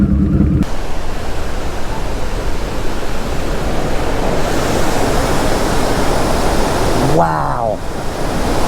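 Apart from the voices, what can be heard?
storm waves crashing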